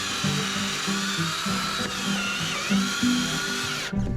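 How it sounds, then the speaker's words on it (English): A power drill fitted with a hole saw bores through a wall, giving a steady whining grind with small pitch wobbles and load changes, close and loud, stopping abruptly near the end. "we'll go back out to the outside and get them drilled with the hole saw"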